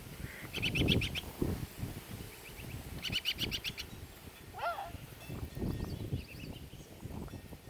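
A larger bird answers from a distance with the same call: two bursts of quick, repeated high chirps, fairly faint, over low rustling and background noise.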